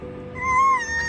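A human voice imitates the call of an imaginary creature called a Croci-gator with a short, wavering, whiny cry, close and alone, lasting about a second.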